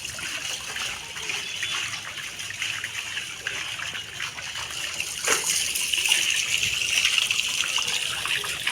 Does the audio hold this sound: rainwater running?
yes